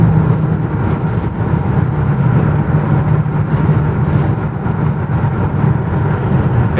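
A BMW G80 M3 fitted with a 4-inch midpipe drives on a highway, giving a loud, steady low exhaust drone with road rumble throughout and no voices.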